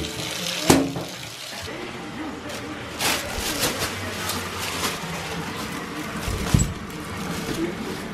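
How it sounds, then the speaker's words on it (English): Water runs from a tap into a bathtub, a steady rushing splash under occasional bumps and knocks, with some louder clattering thuds nearby. "let me start your bath for you"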